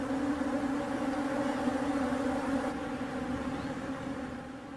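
Thirsty bees buzz around wet towels in a dry outdoor setting, a steady droning hum of several insects close by with no talking.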